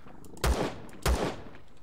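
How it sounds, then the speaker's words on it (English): Two sharp gunshots ring out in the sci-fi survival game Empyrion Galactic Survival, spaced about half a second apart, each a punchy blast with a brief tail over quiet background. "We can shoot out his feet."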